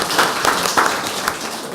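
An audience at a unification forum applauds to welcome a speaker, a short burst of many hands clapping at close range with scattered louder claps and no voices.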